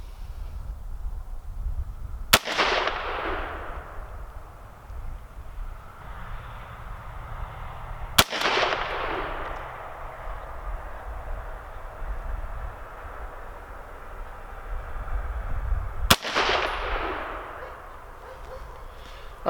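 Three sharp, loud rifle shots from a Savage A17WSM semi-automatic fired outdoors, spaced several seconds apart, each with a ringing decaying echo over quiet background.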